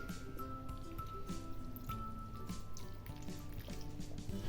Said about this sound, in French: je vais couvrir donc de bouillon, de gelée, de futur gelée